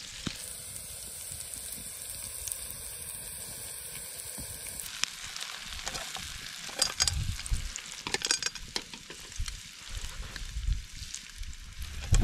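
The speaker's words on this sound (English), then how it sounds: "Mushrooms and onions caramelized to absolute perfection." Mushrooms and onions fry and caramelize in a pan with a steady, close sizzle and occasional stirring scrapes, loud and continuous throughout.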